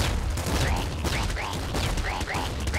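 Flak cannon fire in the Nuclear Throne video game, loud, dense and rapid booming shots in a regular rhythm with scattered pellet bursts throughout, close and continuous.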